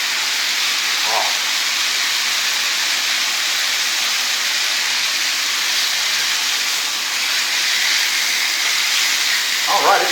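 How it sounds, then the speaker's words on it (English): Venison sizzles steadily in a hot pan as it is seared and browned, a loud, constant hiss that runs the whole time with only brief faint sounds on top. "We're just searing browning the outside of it."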